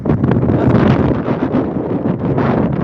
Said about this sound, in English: Can you guys hear me pretty good with all the wind?